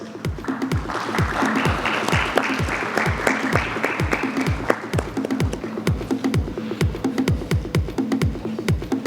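Audience applause after a panel session at an insurance industry event: a steady, fairly loud burst of many hands clapping, with a few prominent near claps on top, lasting throughout with no speech.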